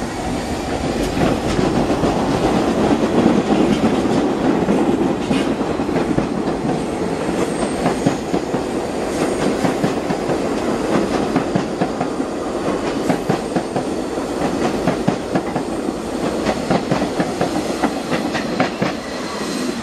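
An R42 New York subway train rumbles steadily along the tracks with rhythmic clickety-clack of wheels and a loud, continuous roar throughout.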